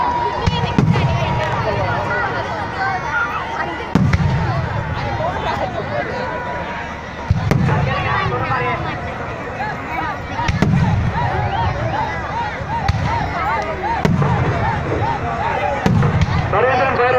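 Fireworks by Narendran Fireworks of Kanchipuram at a Mariyamman temple festival in Karur, with repeated booming bursts every few seconds under a loud, continuous crowd noise and an announcer's voice.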